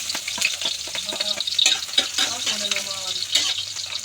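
Onion sizzling and frying in hot oil in a pan, with crackling bursts and a few stirring scrapes, close and steady throughout with no talk.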